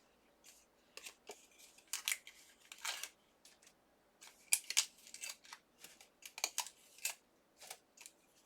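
Scissors snip out die-cut paper pieces in a series of close, crisp cuts, some in rapid clusters and others spaced apart, fairly quiet overall.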